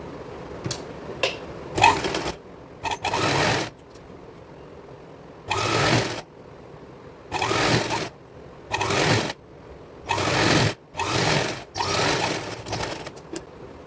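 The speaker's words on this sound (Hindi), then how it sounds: "इन 2 कलियों को ऐसे लेके और साइड से सिलाई लगाएंगे।" A sewing machine stitches lining panels of an old saree together in repeated bursts of fast mechanical whirring, separated by quiet pauses, close and fairly loud.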